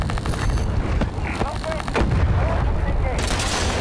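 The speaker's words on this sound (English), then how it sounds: "Enemy vehicle destroyed!" An enemy vehicle blowing up in Battlefield 2042 amid heavy gunfire, loud booms and cracking shots layered over a dense battle roar.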